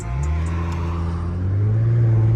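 An Infiniti Q50S with a straight-piped exhaust rumbles loudly and steadily, its deep exhaust note holding then rising slightly toward the end, with no talking.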